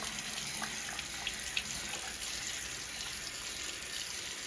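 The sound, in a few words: wetting hands under running tap water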